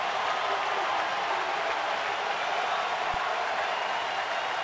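A baseball crowd at a Nationals–Braves game in Atlanta stands and cheers for Hudson, a steady, loud wash of applause and voices filling the stadium without letup.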